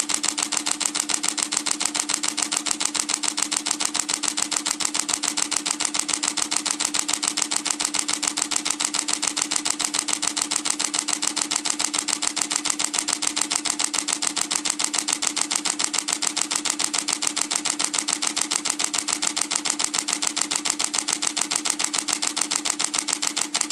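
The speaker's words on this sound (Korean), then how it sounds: "지금 렌즈를 마운트하지 않고 셔터 속도 8000분의 1초를 이용해 사실상 검정 화면 기준의 JPG 최대 화질을 한번 촬영을 해보겠습니다." A Canon 80D fires a continuous high-speed burst at 1/8000 s with no lens mounted, shooting maximum-quality JPEGs: a close, rapid, evenly spaced shutter clatter that runs unbroken and steady for over twenty seconds.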